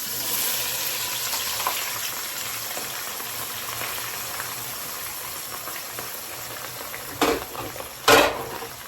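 Chopped onion sizzling and frying in hot oil in a pot as the base for a stew served with white rice, a steady low hiss with brief louder bursts near the end, no talking.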